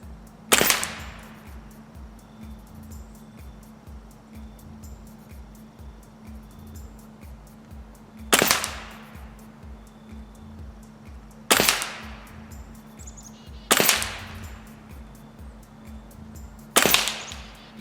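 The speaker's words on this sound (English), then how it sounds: "So we'll get it at 50, get some lead down range, and we'll show you what she can do." Hatsan Bullmaster .22 air rifle fired at a 50-yard target: five sharp, isolated shots spaced several seconds apart, each a crisp crack with a short tail, standing out over a steady low hum with no talking.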